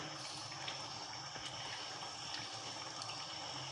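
Water is poured into a pot of rice for cumin rice, a faint, steady rushing with no break.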